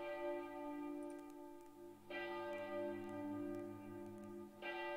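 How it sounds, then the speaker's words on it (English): Church bells toll in the distance, their long sustained ringing overlapping as fresh strikes enter at intervals, steady and resonant with no voices present. "I hear bells start to toll off in the distance."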